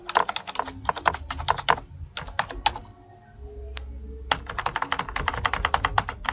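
Fast typing on a computer keyboard while entering text in MS Word, close and crisp rapid key clicks in bursts, one pause of about a second and a few isolated taps, with no talk.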